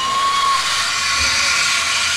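Steam locomotive pulling away from a station platform, heard as a loud continuous hiss of escaping steam with a brief faint whistle tone at the start.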